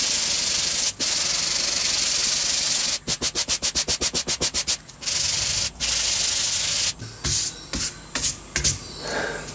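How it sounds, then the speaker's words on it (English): Sanding the end of a wooden clock piece: steady abrasive rubbing broken by a fast run of short rhythmic strokes, then irregular scrubbing passes, close and fairly loud with no voices. "So let's go ahead and give that a sand."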